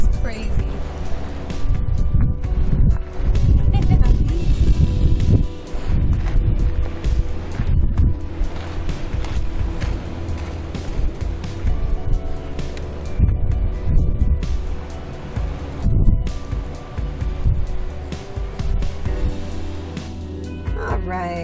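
A desert wind storm at Joshua Tree roars and buffets the microphone for the whole stretch, a loud, continuous rush with gusts that swell and ease.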